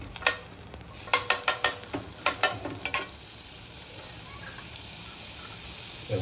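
Butter sizzling in a pan for dhaba-style paneer butter masala: a steady frying hiss with a burst of quick spoon clinks and scrapes early on, then an even sizzle alone.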